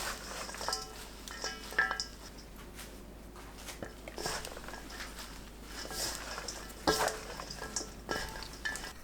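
Mugwort with green and red chili peppers being mixed by hand into buckwheat pancake flour, a soft, quiet rustling and patting with scattered light clicks of a bowl, fairly faint.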